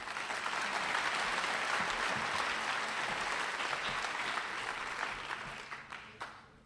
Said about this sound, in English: Let's give these two a round of applause.